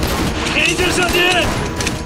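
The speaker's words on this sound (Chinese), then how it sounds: "前进射击。" Burst of rifle and machine-gun fire in a kung fu war film battle scene with Japanese soldiers, dense overlapping shots with a shouted voice, loud and close throughout.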